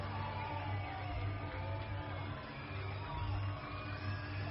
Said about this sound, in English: Crowd here at Toyota Field starting to get into this one.